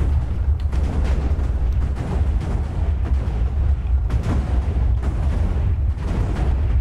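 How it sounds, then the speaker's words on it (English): TNT explodes in a chain in Minecraft, a dense run of deep booming blasts rumbling continuously and loudly, with repeated bursts blending into one long, heavy roar. "So the TNT goes up, explodes, bunch of TNT comes off of that and creates a giant explosion."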